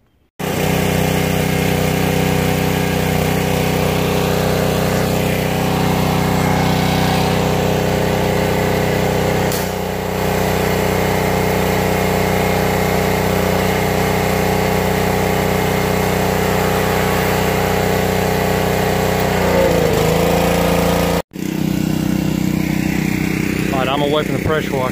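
Gas-powered pressure washer running steadily for washing a house exterior, a loud continuous engine drone with pump hum that stays even throughout, dropping out briefly near the end before resuming; a voice speaks faintly underneath.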